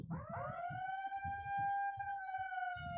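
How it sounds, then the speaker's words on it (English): A long rising siren wails steadily at a Masters weightlifting championship for men over sixty, held at one pitch for several seconds, loud over a murmuring crowd. "There's the siren."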